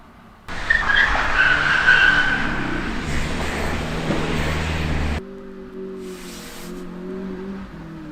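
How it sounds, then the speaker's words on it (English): A car's tires squeal and skid loudly for several seconds, then cut off, leaving a lower engine hum rumbling in the distance, in a cold parking lot at night. "Several vehicles are still nearby and people continue driving noisily around the area."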